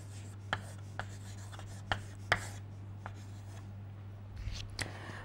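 Writing on a board during a thermodynamics lecture, faint scattered taps and short scratchy strokes of chalk or marker over a steady low hum, no voices.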